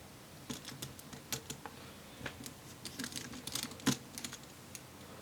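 Tiny Torx T4 screws being unscrewed from the internal shield of an M1 MacBook Air (Late 2020) during an audio/TouchID board repair, heard as faint, scattered small clicks and ticks with no talking.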